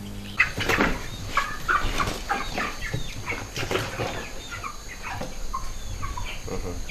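Chickens on a poultry farm holding a flock of about 400 birds, with repeated clucks, wing flaps and bursts of fowl calls close by, busy and irregular throughout.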